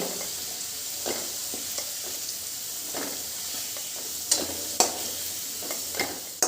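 Potatoes sizzle steadily in hot oil, with a few sharper crackles and scraping stirs interrupting the constant frying hiss.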